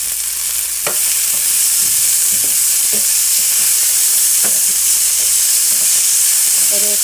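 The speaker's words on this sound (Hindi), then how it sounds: "अब इसमें ये 2 मैंने टमाटर लिए हैं और 3 हरी मिर्च ये मैं इसमें डाल दूँगी" Tomatoes and green chillies fry with browned onions for piyaz masala, making a loud, continuous close-up sizzle with scattered light clicks of stirring throughout.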